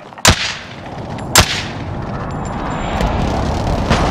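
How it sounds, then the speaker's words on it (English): Precision airstrike explosions in Call of Duty: Modern Warfare: two sharp, heavy booms about a second apart, followed by a rolling rumble and a fainter distant blast, all loud and near. "Be advised, friendly precision airstrike inbound."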